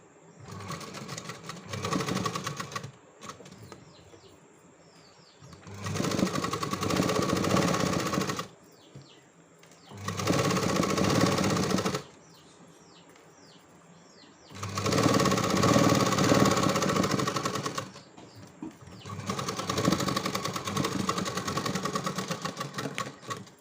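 A sewing machine stitching a boat-neck blouse, running in loud whirring bursts of several seconds each, separated by quiet pauses, five or so runs in all; no talking.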